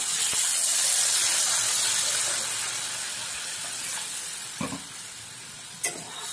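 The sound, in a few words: water poured onto sizzling fried spices for mixed vegetable curry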